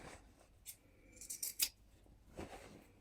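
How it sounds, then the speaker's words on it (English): Scissors snip across the corners of a sewn dress at a 1 cm seam allowance, making a few quick, close, crisp cuts in an otherwise quiet room. "Now snip across these corners"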